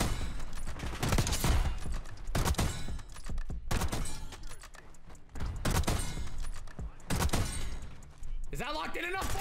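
Repeated sniper rifle gunfire in the video game Black Ops 6, several loud sharp reports with echoing tails spaced a couple of seconds apart, with brief bits of in-game sound between them.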